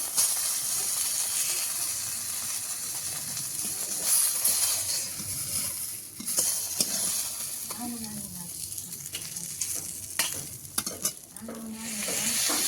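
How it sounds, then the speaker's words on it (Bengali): Papaya pieces frying in oil in a wok with chopped onion and whole tempering spices, giving a steady sizzle and hiss with occasional stirring scrapes throughout, close and moderately loud. "কড়াইতে তো পেঁপেটা দিয়ে দিয়েছি আর একটু তেলে পেঁয়াজ কুচি আর ফোড়ন দিয়ে দিয়েছিলাম"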